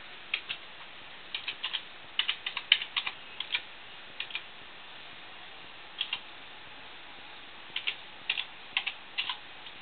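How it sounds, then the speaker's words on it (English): Someone types on a computer keyboard close by, the keystroke clicks coming in short bursts separated by pauses, with no talking. "just type in the administrator's name"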